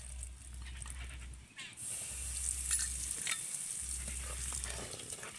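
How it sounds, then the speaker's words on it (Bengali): Salt and turmeric powder sizzle in hot oil in a wok for egg biryani, a continuous close hiss with a low electrical hum pulsing underneath. "এবার আমি ডিমটা ভেজে নেব তার জন্য কড়াইতে দিয়ে দেব লবণ"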